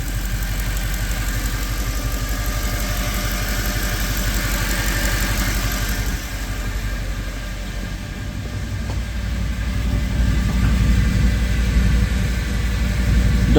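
Mercedes E63 AMG with the M156 V8 running on newly fitted aftermarket headers, a loud, steady, deep idle burble with a rhythmic pulse, rising slightly toward the end, heard close.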